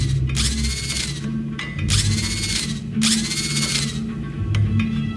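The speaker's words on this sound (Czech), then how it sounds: "to vypadá jako zubní vrtačka" A hydro spanner tool from the Vader Immortal video game whirs and grinds mechanically in three loud bursts over a steady low hum, like a drill or ratchet.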